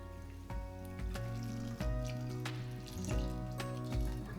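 Juice poured into a pot of raspberry jam with erythritol, a continuous liquid splash and trickle with a few sharp drips and clinks, close and fairly quiet, with no talk.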